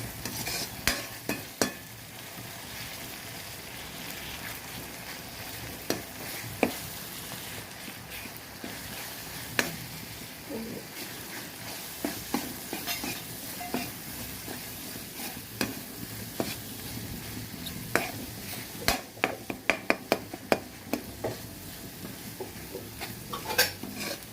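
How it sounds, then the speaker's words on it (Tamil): Sautéed onions with chili powder stirred in a pan for fish curry, a steady frying hiss with frequent clicking spoon scrapes and knocks against the metal, continuing for a long stretch. "அடுத்த பொருளான மிளகாய் தூள் சேர்த்துக்க போகிறோம்"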